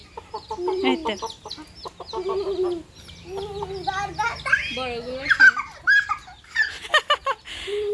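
Chicks and hens clucking and cheeping close by in a busy, uneven stream, with people's voices mixed in.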